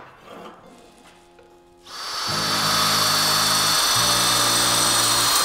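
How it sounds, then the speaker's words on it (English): A power drill bores fir wood stock through a steel dowel jig, the cutting burr shaving the wood into a dowel; after a quiet start it spins up loud and steady, a dense whirring grind that holds close and continuous to the end. "This is where that nasty burr comes in real handy, because the burr is actually acting like a miniature chisel right now, chiseling away the excess wood and creating your dowel."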